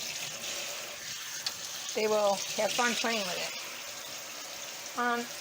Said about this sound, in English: You have to wash your bulgur really good